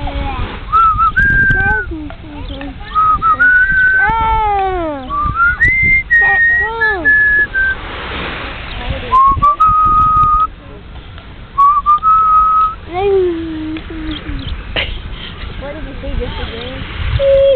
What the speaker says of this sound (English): Are you whistling? Whistle at mama.